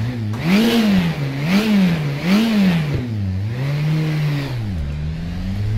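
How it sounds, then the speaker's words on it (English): A KTM X-Bow engine in a racing video game starts up and revs repeatedly in rising and falling swells, loud and close, with a steady mid-pitched tone and no talk over it. "Okay, let's start the car up. Lovely startup sound."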